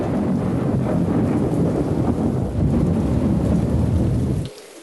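Heavy rain pours down with thunder rumbling through a storm at sea, a dense, loud, steady roar with a deeper surge midway before it cuts abruptly to near silence at the end.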